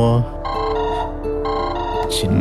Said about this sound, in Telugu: ఫోన్ చేస్తున్నాడు సార్